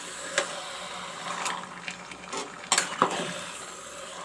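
Mutton pieces being mixed in a pot for curry make soft wet shuffling and scraping, with a few sharper metallic clinks of a spoon against the pot, close and fairly quiet, no talk.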